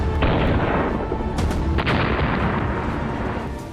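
Bomb blast from a drone attack on soldiers, heard as a loud sustained boom and roaring rumble, with a second burst surging midway, all close and dense with no talk.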